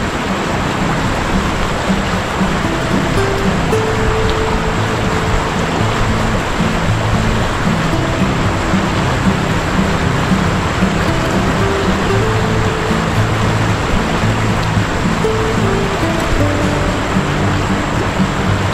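River flowing beside a campsite, a constant loud rushing of water with no pauses, with faint low murmuring voices beneath it.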